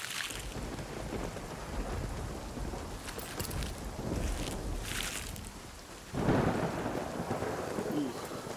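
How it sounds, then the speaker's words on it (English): Rain and thunder in the Nightingale video game: a constant patter of rainfall with several low rumbling thunder rolls, one louder crack-like burst partway through, no talking. "this rain kind of interrupted us"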